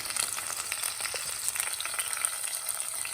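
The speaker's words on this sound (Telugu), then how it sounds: "ఆనియన్ ఇవి బాగా గోల్డెన్గా ఉన్నాయి అయ్యే వరకు వేయించుకుందాము" Onions frying in a pan until golden for mutton curry, with ginger and garlic, giving a steady close hiss of sizzling oil with faint stirring scrapes.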